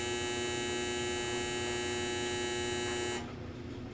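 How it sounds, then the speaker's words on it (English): A running clothes dryer gives off a steady, loud electrical hum with a tonal buzz that holds evenly for several seconds, then drops abruptly to a quieter hum near the end. "That's the dryer."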